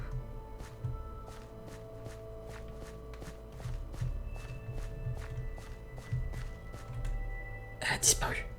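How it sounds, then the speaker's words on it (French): Footfalls of an unseen entity in the Minecraft video game, repeated quiet steps at a regular pace under a faint droning background, ending in a sharper, louder sound. "Elle fait ses bruits de pas."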